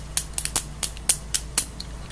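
Gears on a fidget cube rolled under a thumb, giving about ten sharp, close clicks in an uneven quick rhythm, alone without talk.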